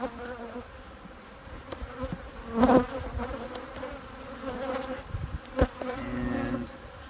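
A honeybee colony that has swarmed drones in a steady, close buzz throughout, joined by a few brief knocks and handling sounds from work at the hive.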